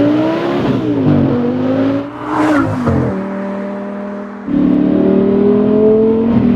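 Audi R8 GT Quattro accelerating hard, its engine note climbing through the revs in rising sweeps, dropping briefly at a gear change and then surging again loud and close, with wind rush around the car.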